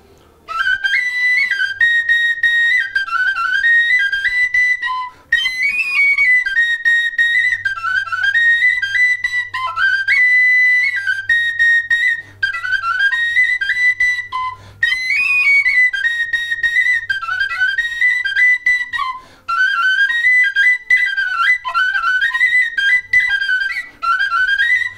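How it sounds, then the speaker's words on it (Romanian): Romanian fluier folk flute playing a lively sârba, bright breathy whistling melody in fast running phrases with brief pauses, close and solo over a faint low drone. "Ai putea să cânti la fluier sârba."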